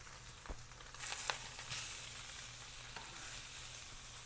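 A sous vide steak sears on a soapstone set on a grill, giving a steady, fairly quiet sizzle with a few louder crackling pops early on and no talking.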